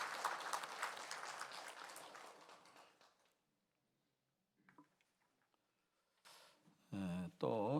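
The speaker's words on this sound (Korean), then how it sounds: "네, 여러분 박수해 주시기 바랍니다." A church congregation at Eumseong Methodist Church claps for visiting deacons from Chungju Namboo Church during a Sunday service. The dense applause lasts about three seconds and fades out, followed by quiet and then brief voices.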